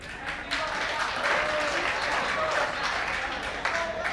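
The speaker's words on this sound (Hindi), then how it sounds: "ताली बजाओ तेरे लिए" Students in a JEE maths lecture hall clap for a classmate who tops the class, a steady wash of applause running the whole time under noisy room sound.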